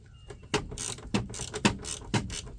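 A socket ratchet loosening interior trim fasteners on a 1994 Ford F-150, giving a handful of short clicking, ratcheting bursts spaced about half a second apart, close and fairly clear with no talking.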